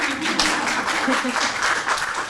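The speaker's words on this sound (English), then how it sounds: "you can clap for them too" A town hall audience claps for guest speakers, a dense, steady round of applause in a room that continues throughout the short stretch, with a voice faintly present underneath.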